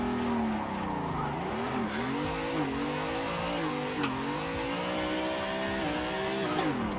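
A car drifts in a racing simulator game, its engine note rising and falling continuously while tires skid and squeal steadily throughout, loud and close with no pauses.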